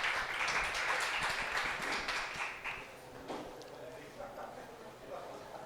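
A church congregation claps in a lively burst for roughly three seconds, then the applause thins into scattered claps beneath murmuring voices.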